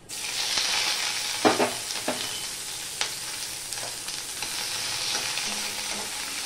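A large sliced onion and four slit green chilies land in hot tempering oil and set off a loud burst of sizzling. A spatula stirs and scrapes now and then while the crackle carries on steadily, with no one speaking.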